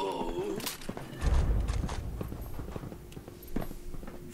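Horse hooves clip-clop in the video game Fallout 76, a short run of close, rhythmic hoof thuds with a brief whinny-like tone at the start and game ambience behind.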